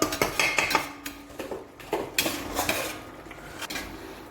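Biryani masala being mixed into paneer biryani in a pot in a Kerala-style kitchen, with close clanks and scrapes of a metal spoon against the pot in an uneven rhythm. No talking is heard.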